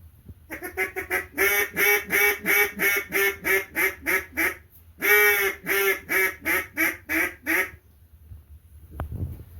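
A handmade Louisiana cane duck call blown in quick rhythmic bursts of quacks: a long run, a short pause, then another run, loud and close, with no talking.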